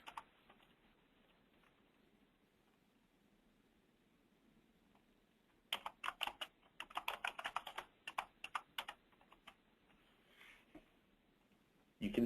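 Typing a comment on a computer keyboard: after a quiet stretch, a close burst of quick, uneven key clicks runs for several seconds, then tapers off.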